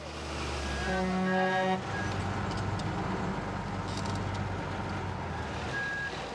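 A four-wheel-drive truck rumbles steadily up close while a tonal horn-like beep pattern sounds early on, then the engine drone continues alone with faint knocks.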